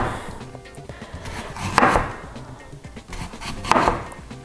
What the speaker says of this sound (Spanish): picar verdura es una de las cosas que más me gusta